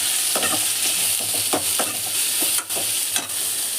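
Onion, ginger and garlic sauté in a pan with a steady close sizzle, broken by repeated scraping strokes of a spoon, with no talk.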